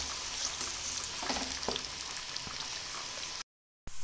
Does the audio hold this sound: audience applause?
no